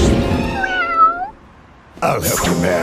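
A cartoon cat stuck up on a lamppost lets out a long, wavering meow, loud and close, followed by a burst of other noise after a short pause.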